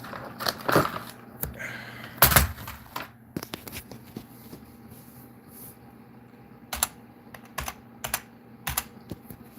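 Keys clack in short bursts of typing, with a few louder clicks and pauses between, over a faint steady hum.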